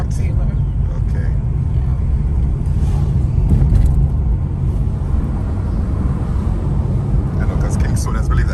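A car drives through a hilly Mandeville neighbourhood in Manchester, Jamaica, heard from inside as a steady, loud, low engine and road rumble, with people talking over it throughout.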